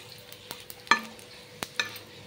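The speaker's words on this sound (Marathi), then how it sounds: "आता धने पण आणि थोडेसे तीळ हे पण छान भाजून घेणार आहे" Coriander seeds and sesame seeds dry-roast in a pan for a trotter soup: sparse scraping stir strokes and a few sharp clinks over a faint dry crackle, close and quiet, with no speech.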